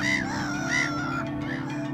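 Crows or similar birds cawing repeatedly in Hyde Park, London, a few harsh calls close by over a steady outdoor background, with no talking.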